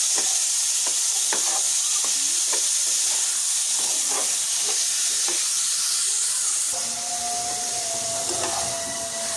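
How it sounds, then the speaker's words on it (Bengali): Pieces of chicken meat frying in oil in a pan, giving a loud, continuous sizzle with scattered crackles and stirring scrapes, alone without any voices. "এখন আমি এটাকে ভালো করে ভেজে নেব।"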